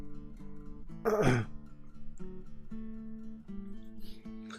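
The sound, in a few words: cough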